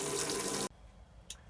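Hot water gushes steadily from a tap in a Campscout Revolution camper for about two-thirds of a second, loud and close, then cuts off abruptly, leaving a quiet room and a brief faint drip or click.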